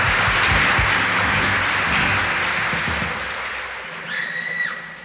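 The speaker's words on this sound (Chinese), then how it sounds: "给瓜哥再度热烈的掌声鼓励。" An audience at a television variety show bursts into dense, loud applause that gradually thins and fades over a few seconds.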